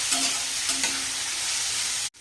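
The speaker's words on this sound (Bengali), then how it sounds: "মাশরুমটা হালকা করে যা সতে করে নেবে" Mushrooms sautéing lightly in a pan, a bright continuous close sizzle with a few soft stirring touches, cutting off abruptly near the end.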